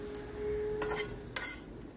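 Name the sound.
frying sliced spiny gourd (kakrol) in a pan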